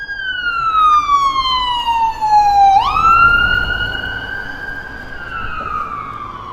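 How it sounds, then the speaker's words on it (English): A police car siren wails loudly past on a Los Angeles street in West Hollywood, its tone sliding down and then rising again as the vehicle passes close by, over steady traffic rumble. "There's another police car coming by here."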